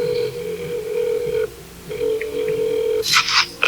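A telephone being dialed produces steady tones broken by a short pause, then a burst of quick, bright keypad beeps close by.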